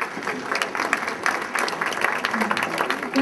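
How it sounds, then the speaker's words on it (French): Audience applause at an annual brunch of the Unité Domrémy in Plessisville, 2013: a steady spatter of hand claps from a seated crowd filling the room, moderately loud and continuous throughout, with faint voices mixed underneath. "Une bonne main d'applaudissement."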